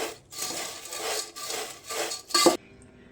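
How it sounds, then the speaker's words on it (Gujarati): Homemade fine yellow besan sev and puffed rice are tossed together for sev mamra, with several close, dry rustling and scraping strokes in a rhythmic series and a sharper scrape near the end. "સરસ રીતે મિક્સ કરી લઈએ."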